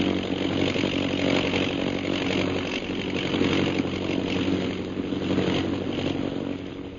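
An airplane engine drones overhead as a radio drama effect, a loud, steady, close rumbling roar that holds evenly throughout with slight swells and no voices.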